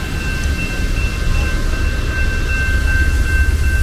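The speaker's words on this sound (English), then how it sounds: "the train is coming" A train approaches along the Seattle waterfront as a steady, loud rumble with a faint high squeal or whine held over it, nearby and continuous throughout.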